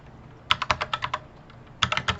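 Commands are typed on a computer keyboard in two quick runs of close, crisp keystrokes separated by a short pause, with no voices.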